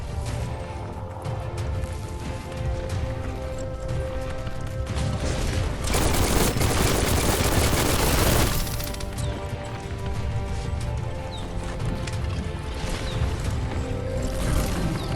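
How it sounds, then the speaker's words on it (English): Gunfire in the video game Biomutant, a dense, continuous barrage of crackling shots and impacts that swells into a heavier burst midway, loud and sustained throughout. "Bullets everywhere."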